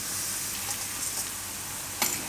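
Spices dropped into hot oil over a low flame for a Gujarati garlic raita, giving a soft steady sizzle with a brief brighter crackle near the end, faint and close.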